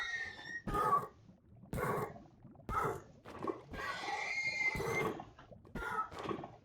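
Minecraft horses neighing in the video game, a bunch of short whinnies in quick succession with brief gaps, close and loud, one longer overlapping cry in the middle.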